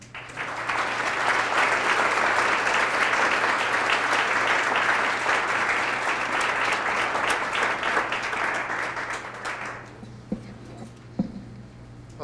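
A lecture audience claps to welcome a speaker at a parks lecture series, with dense, sustained applause for about ten seconds that gradually thins and fades, followed by a few scattered claps near the end.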